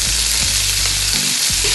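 Asparagus tips sauté in a hot frying pan with a loud, steady sizzle, broken by a few brief scraping stirs and no talk.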